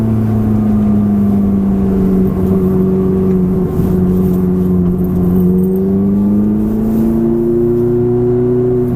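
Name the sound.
Ferrari F430 engine revving under hard acceleration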